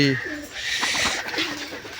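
Giribaz pigeons, including a newly collected bird, coo in low rolling calls that repeat over steady background noise, close and fairly loud.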